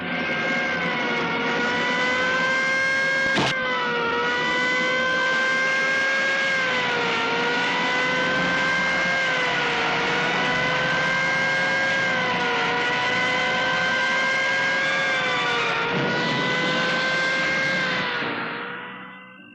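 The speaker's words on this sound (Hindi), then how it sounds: "गाड़ी स्टार्ट करो, चलो।" A car engine running and revving steadily as the vehicle drives off, a loud sustained drone with pitch wobbling up and down, one sharp click near the start, fading out at the end.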